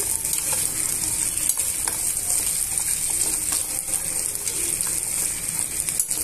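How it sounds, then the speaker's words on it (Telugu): Chopped onions and other chutney ingredients fry in a pan for idli and dosa chutney, a close, loud and steady sizzling hiss with no pauses. "ఇవన్నీ బాగా వేయించేసుకోవాలండి"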